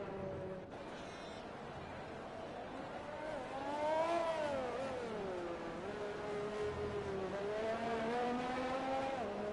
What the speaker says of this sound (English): I'm just watching cars circulate over and over.